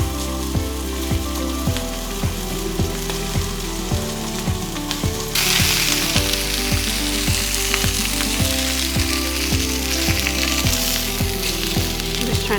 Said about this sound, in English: I'm just trying to get these edges brown to seal in the moisture.